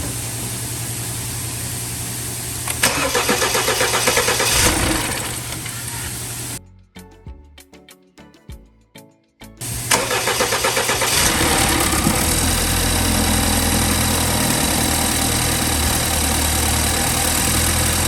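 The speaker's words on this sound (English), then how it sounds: "we're gonna start the car." A 2013 BMW 328xi with an N20 engine cranks and turns over after timing chain work, cuts briefly, then starts again and settles into a steady, loud idle with a continuous rumble.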